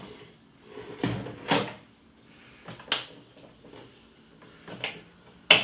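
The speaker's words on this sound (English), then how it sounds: "you simply grab hold of the keg, slide it in position" A beer keg slides into a Philips Perfect Draft machine, giving several soft clunks and knocks of plastic and metal at close range, spaced irregularly in a quiet room.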